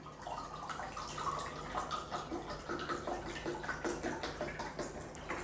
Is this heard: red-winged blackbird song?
no